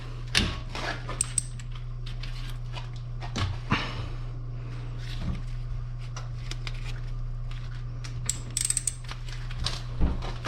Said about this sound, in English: take a 14 millimeter and take off the caliper bolts.